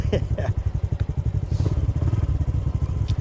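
A Honda CT motorcycle with a big bore kit and aftermarket exhaust idles close by with a deep, loping exhaust burble, steady uneven pulses throughout and no one talking.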